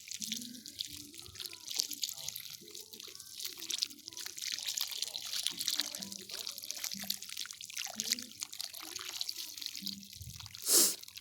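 Water from a garden hose pours into the soil around newly planted trees, a steady close trickling and splashing that runs the whole time, with a brief louder hiss near the end.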